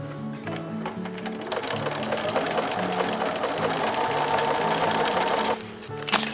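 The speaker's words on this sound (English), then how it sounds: "we'll start sewing from here" A sewing machine stitches a paper-pieced quilt, running in a steady, fast continuous whir for several seconds with brief pauses at the start and end, close and loud.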